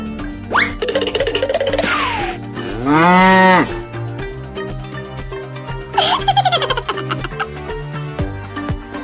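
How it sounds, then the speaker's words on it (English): A cow moos repeatedly at close range among other farm animals, with several loud drawn-out lowing calls standing out over steady background noise and distant bellows. "cow."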